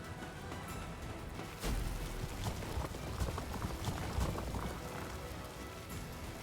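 Rain falls steadily across the open-world shooter game Dysterra, a dense hiss with scattered patters and occasional heavier thuds, constant throughout with no talk.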